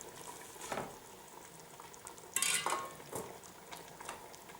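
Onions and chard fry in a pot for a winter vegetable stew with veal, giving a soft, quiet sizzle. Stirring and clinks of utensil on metal break through it, with one sharper scrape near the middle.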